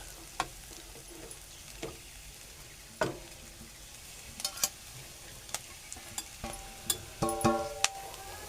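Green chillies sautéing in a pan, a soft continuous sizzle broken by sharp clicks and scrapes of a spoon stirring against the metal, with no voices.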